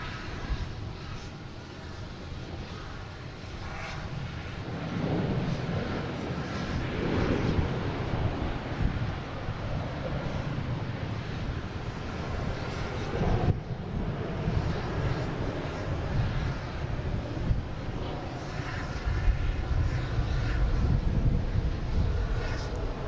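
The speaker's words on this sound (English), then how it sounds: "Lufthansa A380, the King. Landing on 4 right." A Lufthansa Airbus A380 lands on runway 4 right at Boston Logan International Airport, a loud, sustained jet roar with wind buffeting the microphone, swelling and persisting for the whole stretch.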